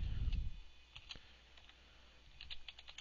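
Keys on a computer keyboard are typed as code is entered, with quiet, close clicks in short uneven bursts and pauses between them.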